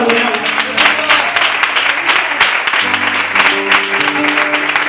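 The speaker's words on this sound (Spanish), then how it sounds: "¿Os parece bien dar un aplauso al Señor?" A church congregation claps steadily for about five seconds, a dense, loud wash of applause with voices and sustained tones underneath.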